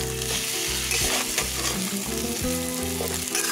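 Mutton stirred with cumin powder, ginger-garlic paste and spices in a nonstick kadai gives a steady, close sizzle of frying with repeated scraping stir strokes throughout, no voices.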